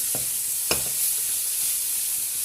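Boiled vegetables mixed in a pan, a soft continuous sizzle with two sharp clacks of a spoon against the pan early on, close and fairly quiet.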